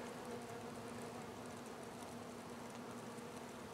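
Bees pouring out of an opened swarm hive, a continuous, even buzzing hum filling the air at close range with no talking.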